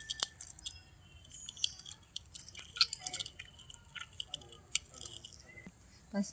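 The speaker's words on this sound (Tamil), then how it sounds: "இப்போ 2 தக்காளியை நம்ம பிசைஞ்சு எடுத்து வச்சுக்கலாம்" Soft wet squelching and squishing as tomatoes are crushed by hand, irregular close-up squelches with small clicks and drips.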